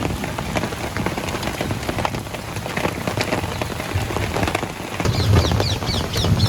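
Steady rain pattering on a surface, dense and continuous, growing a little heavier near the end; a faint bird call shows up briefly.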